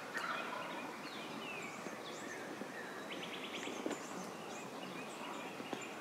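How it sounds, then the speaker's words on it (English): A flock of wild turkeys gobbles at a distance across an open field, faint calls repeating irregularly over a steady bed of insect-like outdoor hiss with no talking. "it's a flock of turkeys"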